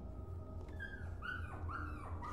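A dog in the video game Rewind or Die lets out whining, yelping cries in a few rising and falling bursts, moderately loud over a constant low rumble.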